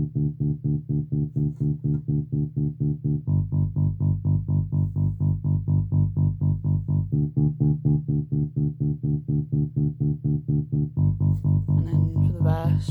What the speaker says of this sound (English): So the first bit of bass I did was the synth bass